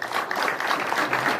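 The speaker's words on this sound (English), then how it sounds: "let's give a round of applause to Vihiga County" A crowd at an agro-ecology policy launch gives a brief round of applause, a dense, even patter of many hands that stays moderately loud throughout the short burst.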